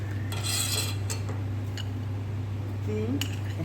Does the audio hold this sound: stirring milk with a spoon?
yes